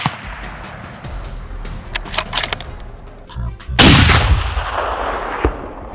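A gunshot fired during a hunt of wild boar in snow cracks loudly and booms, followed by a long rolling echo across open ground, after several sharper clicks and knocks earlier.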